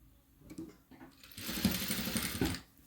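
Sewing machine stitching fabric for piping, a short quiet burst of rapid mechanical chatter that starts after a few faint taps and runs steadily for about a second before stopping.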